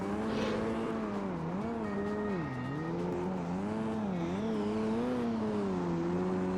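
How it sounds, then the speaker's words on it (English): Rotary-engined car in Street Racing Syndicate, a 2004 PS2 street racing game, its buzzy engine note rising and falling steadily with throttle and shifts, loud and continuous with a brief tire squeal, no talking. "This car doesn't sound terrible. It sounds like a rotary."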